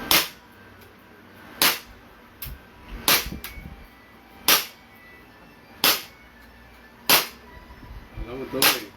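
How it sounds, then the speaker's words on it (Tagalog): A handgun fires seven evenly spaced, sharp cracks roughly every 1.3 seconds, close and loud, with faint voices between shots. "Okay, firing."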